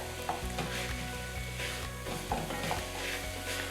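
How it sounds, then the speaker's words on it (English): Onions with cumin seeds sizzle in a pan, a steady dense hiss broken by rhythmic scrapes of stirring, close and continuous with no voices over it. "And stir."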